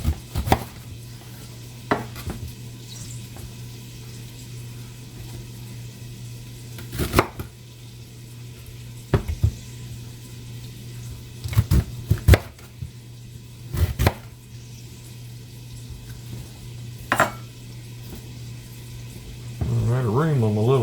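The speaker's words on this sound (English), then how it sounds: "so cut it in about 1-inch slices" Knife chopping cabbage into roughly one-inch slices on a small cutting board, sharp separate thunks spaced irregularly across a quiet kitchen, with a low steady hum and occasional speech.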